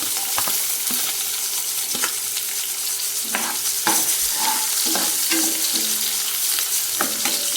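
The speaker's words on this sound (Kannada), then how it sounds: "ಈಗ ಕೊಯ್ಕೊಂಡಿದ್ದೀನಿ ಬೀಟ್ರೋಟು ಮತ್ತು ಈರುಳ್ಳಿ ಹಾಕ್ತೀನಿ ಇದಕ್ಕೆ." Beetroot and onion fry in hot oil with curry leaves, giving a steady close sizzle broken by scattered clinks and scrapes of stirring.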